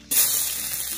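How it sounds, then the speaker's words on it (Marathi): Chopped onion hits very hot oil for tempering on a village wood-fired stove. A sudden loud hiss is followed by a steady, close sizzle. "तापलाय खूप, कांदा टाकते हा फोडणीला."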